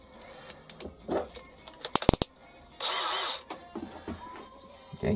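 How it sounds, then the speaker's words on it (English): A tapping drill whirs in a short burst while tapping a hole during DRO installation on a Warco WM16B milling machine, preceded by a few sharp clicks and knocks, with quiet handling noise around it. "Back to the tapping drill."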